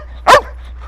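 A single sharp bark from an excited, playful dog, loud and close, standing alone against a quiet room.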